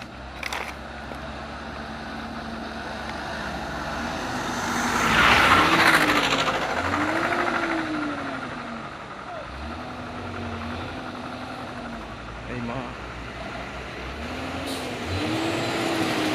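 A Hino box truck labours up a steep hill road, its engine droning low and steady with rising and falling pitch sweeps, a swell of louder noise midway, and brief air-hiss bursts over ongoing traffic rumble.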